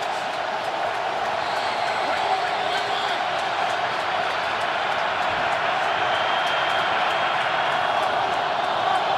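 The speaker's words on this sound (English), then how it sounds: "Crowd is alive." Dense stadium crowd noise at an NFL game between the Tampa Bay Buccaneers and Baltimore Ravens, a steady loud roar of cheering spectators held throughout with no break.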